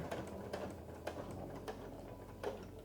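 A Memory Craft 15000 sewing machine stitches down fabric binding, its quiet rhythmic ticking clicks repeating about every half second over a steady low mechanical hum.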